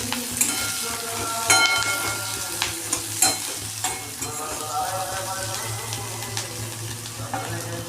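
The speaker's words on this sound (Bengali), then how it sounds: "কাঁচা পেঁয়াজটা একটু লাল লাল করে ফ্রাই করে নেব।" Raw onions fry in oil in a pan, a steady sizzle with frequent scraping and stirring clicks, close and fairly loud throughout, with a low hum beneath.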